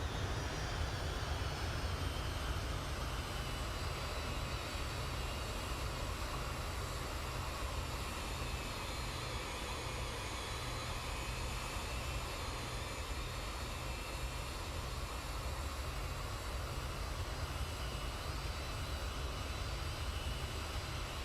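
Jet engines of an MD-80 airliner on approach to land at McAllen in a flight simulator: a loud, steady roar with a deep low rumble and high whine, continuous and unbroken throughout.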